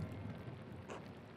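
Steady rain falls in the video game Pentiment, a soft continuous wash of droplets with a low rumble beneath, quiet and unbroken throughout.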